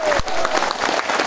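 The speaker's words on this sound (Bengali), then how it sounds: "আজকে ধানের শীষের পথসভায় সবাই একটা ধানের শীষের জন্য হাততালি হোক" An outdoor crowd at a roadside paddy-sheaf election rally in Jaldhaka claps enthusiastically, a dense, lively round of applause with a sharp nearby clap at the start.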